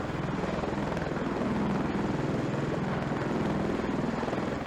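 Military helicopter flying: a loud, steady rotor chop with broad engine roar, continuous and close throughout, with no voices.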